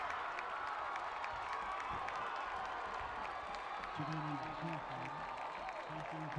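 A crowd cheers at a high school football game between the Conway Wampus Cats and El Dorado. The roar and applause are faint and distant, steady throughout, and a voice talks briefly over them.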